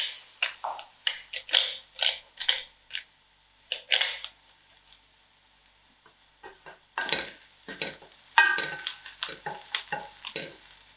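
Onions softening in a pan for a tinned-fish samosa filling, heard as intermittent stirring scrapes and clicks over a faint sizzle, with quiet gaps between bursts of utensil movement.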